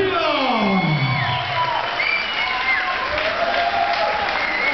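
Audience at a Thai boxing fight night applauding and cheering a fighter's introduction, a dense continuous crowd wash with whoops, while an announcer's voice sweeps over it.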